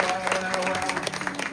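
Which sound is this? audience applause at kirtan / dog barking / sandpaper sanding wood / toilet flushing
audience applause at kirtan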